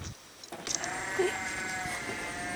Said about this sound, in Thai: นี่คือลูกแพะอายุประมาณ 2-6 สัปดาห์